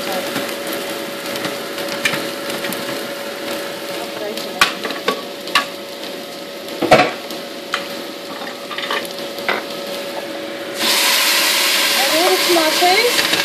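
Tomatoes tipped into a pan of frying onions, ginger and garlic, with a steady sizzle, scraping stirs and wooden knocks, and a louder hiss welling up toward the end.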